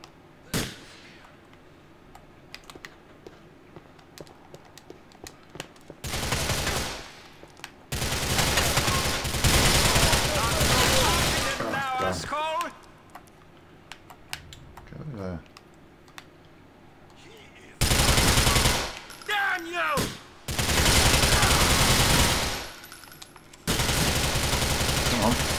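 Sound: gunfire in Grand Theft Auto IV video game

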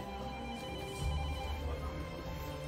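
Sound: telephone ringing in a restaurant

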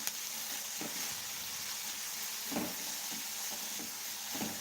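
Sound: onions frying in a pan

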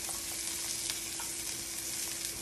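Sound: halved garlic searing face down in a pan

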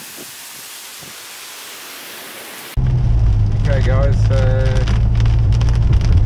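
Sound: rain starting to pour at a national park

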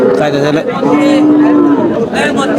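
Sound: cow mooing

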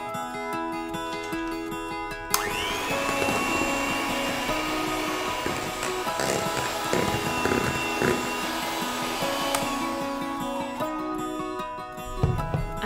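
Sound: whisking brownie batter with melted butter

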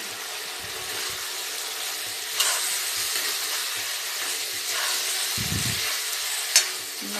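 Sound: fried drumsticks added to frying tomatoes in a pan, sizzling

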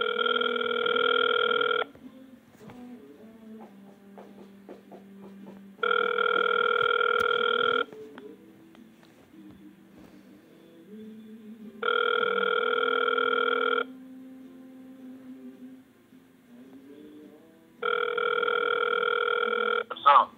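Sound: telephone ringing tone while calling

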